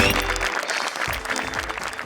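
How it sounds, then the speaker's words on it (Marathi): Loud audience applause fills a theatre stage show as a makeup department crew member named Anthony is called up, a dense, steady wash of many hands clapping throughout. "मेकअप डिपार्टमेंट मधील अँथनी दादांसाठी जोरदार टाळ्या"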